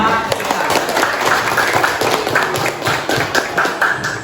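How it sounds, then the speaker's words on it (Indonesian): A classroom of students claps hands together on cue, a quick, close burst of uneven claps with some taps, with voices mixed in under the clapping. "Tepuk tangan dulu semua"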